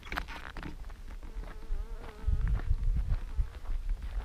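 Honeybees buzz around beehives at an apiary, a steady insect drone with wingbeat whines drifting near and far, mixed with low rumble and handling sounds.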